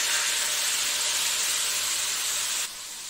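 Dry spices stirred into water are poured into onions frying in a pan for a silver carp curry, giving a loud, steady broadband sizzle that holds for nearly three seconds, then drops to a softer hiss, with no talking.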